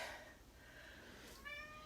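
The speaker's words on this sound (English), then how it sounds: "Here's the cat." A house cat gives a brief, soft meow close by, faint against a quiet room tone, with a second short meow-like tone near the end and no talking.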